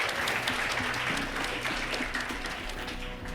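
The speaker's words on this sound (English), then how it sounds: "we need to give all the contestants a big round of applause" Talent-show audition audience gives the contestants steady, dense applause, continuous crowd clapping at moderate level with faint background murmur and tones.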